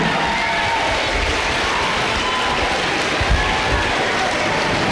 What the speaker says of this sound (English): give a big round of applause to our ELA